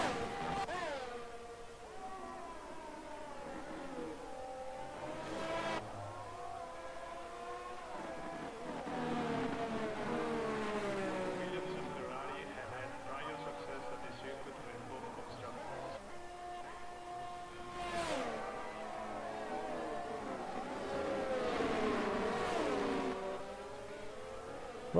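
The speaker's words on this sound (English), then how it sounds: "We've got 3 cars on the home straight, all going at it." Several F1 23 video game race cars scream down the home straight at Imola, engines whining and shifting in rising, falling sweeps, steady and fairly loud throughout.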